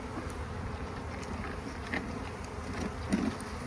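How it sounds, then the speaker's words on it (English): Honey bees buzz around an open hive while frames are worked, a soft continuous hum with occasional louder passes as individual bees fly close. "looks like most of the bees are on that side"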